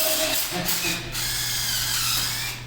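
A hammer drill spins steadily in drill-only mode, its hammer action not engaging, giving a continuous close whirring motor hum throughout with faint ratcheting texture.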